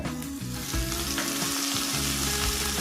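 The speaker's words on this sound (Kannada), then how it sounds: "ಒಂದು ಎರಡು ನಿಮಿಷ ಇದನ್ನು ಫ್ರೈ ಮಾಡಿಕೊಂಡ್ರೆ ಸಾಕು" Potato, beans and carrot fry in a pan for a vegetable curry, giving a loud, continuous sizzle with stirring scrapes and soft knocks, no one speaking.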